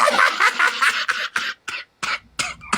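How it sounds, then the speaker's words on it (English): A series of short, sharp coughs in irregular bursts, close and fairly loud, breaking off with brief gaps; a low hum enters near the end. "You have a smoker's cough"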